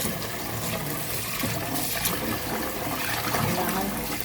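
Water sloshing and running as a mix of red and white rice is washed by hand for cooking, a continuous close splashing and trickling with no talk.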